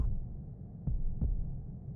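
Two soft, low thumps about a third of a second apart, like a slow heartbeat, sit over a steady low hum in an immersive ASMR soundscape, with no talking.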